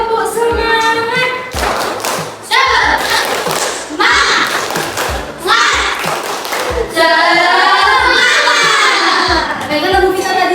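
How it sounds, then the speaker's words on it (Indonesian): A primary-school class chants the tepuk semangat routine together, children's voices mixed with rhythmic bursts of claps and thumps in a lively, close pattern. "Oke, 1, 2, 3, tepuk semangat."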